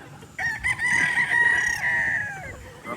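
A rooster crows one long call, close and loud, in an open windy yard among prized fighting or breeding cocks, with faint clucking around it.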